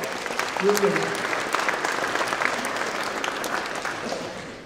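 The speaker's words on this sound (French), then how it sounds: "Oui, vous pouvez l'applaudir" Steady applause from a crowd at a mayor's New Year wishes ceremony in Sainte-Foy-la-Grande, sustained and even throughout, with a brief voice heard near the start.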